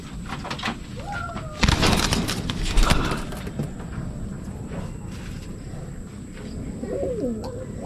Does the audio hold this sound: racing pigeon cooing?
yes